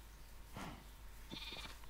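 Sheep in a Minecraft-style block game let out a couple of short, faint bleats close together, over a quiet background.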